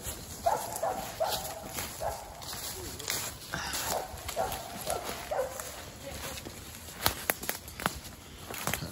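A dog bays at a treed animal outdoors, a string of repeated mid-distance howling calls mixed with people talking, footsteps and rustling.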